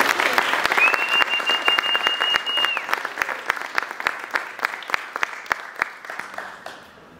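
A congregation at a church service claps in unison, sharp regular beats ringing out at a steady tempo, with a sustained sung or instrumental tone early on before the clapping thins and fades at the end.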